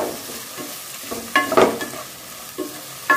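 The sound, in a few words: sautéing chopped tomatoes in a pan for sambar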